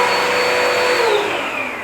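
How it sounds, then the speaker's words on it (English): Vacuum cleaner running at home in short bursts near a dog, a loud steady whine with a motor tone that begins to drop as it is switched off at the end. "I'm going to turn the vacuum on very quickly"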